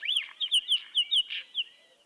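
A songbird, a mimic recorded along a path between yurts, sings a close, clear phrase of about six rhythmic chirped notes, sweeping and repeating before trailing off, alone with no voices.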